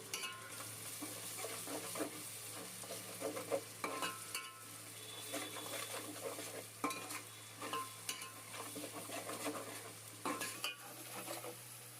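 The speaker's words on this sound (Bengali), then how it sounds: "গুঁড়ো মশলাটা বাটা মশলাতে কষিয়ে নেবো" Spice paste with ground spices stirred and sautéed in a pan for aloo biryani, a steady sizzle under frequent scraping and clinking of a spoon against the pan, close and continuous throughout.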